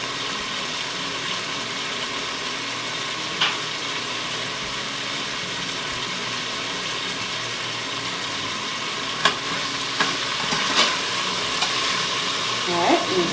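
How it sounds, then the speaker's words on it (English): Browned beef sizzles and fries steadily in an Instant Pot for a broccoli and beef soup, a loud constant crackle with occasional scrapes of stirring and no talking. "scoop out the other half of the meat"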